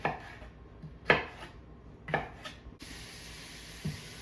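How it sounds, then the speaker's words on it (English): Three sharp knife chops through peppers on a cutting board, spaced about a second apart, close and fairly loud, with a faint steady hiss afterward. "I'll cut these up and throw them in."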